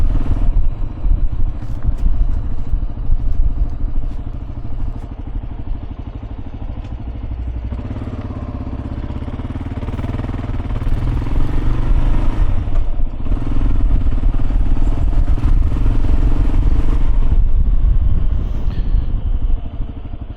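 A motorbike rides through Tulum streets toward the beach area, its engine a loud, close, steady drone that rises and falls slightly with throttle changes, and there is no talking.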